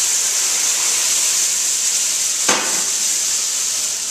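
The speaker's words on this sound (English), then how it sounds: "Just let it simmer, and we want to reduce it till it's a nice thick consistency" Mushroom sauce made with red wine and heavy cream bubbles in a pan, giving a steady soft hiss and sizzle with a brief louder crackle partway through, alone without talk.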